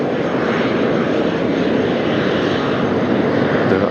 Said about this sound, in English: Yes, that is a fantastic aircraft.